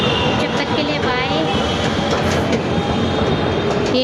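A Delhi Metro train at Peeragarhi station runs with a loud, continuous rumble and rhythmic wheel clatter. Faint chatter is mixed in.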